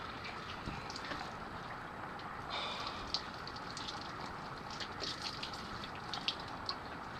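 Shower water runs and splashes steadily for a rinse-off in fresh water after salt water, a soft continuous gush with small spatters and drips, moderately near and without talk.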